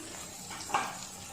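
Onions and tomatoes frying with salt in a pan for monitor lizard curry, a soft steady sizzle with a brief louder stir or scrape near the middle, no talking.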